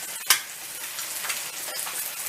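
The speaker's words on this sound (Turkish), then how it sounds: "Salamlarımız ve yumurtamız pişerken tavamızı kenarına da füme etimizi atıyoruz." Salami and eggs sizzle and crackle steadily in a hot pan, a constant frying hiss with a sharp tap near the beginning.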